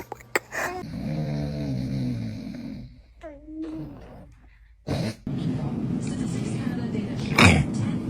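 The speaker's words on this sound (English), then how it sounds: "he's snoring" A man snores in low, rough, rattling breaths, close and fairly loud, repeating with a slow rhythm, while a baby whimpers and fusses nearby.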